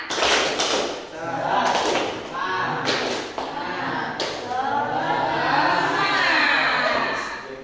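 A group performs the rhythmic tepuk semangat spirit clap, with bursts of patterned claps and thumps alternating with loud group chanting in unison, close and energetic.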